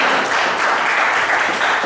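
Many worshippers in a church clap together after a Bible reading at an evening service, producing a continuous, full roar of applause that stays even and loud throughout.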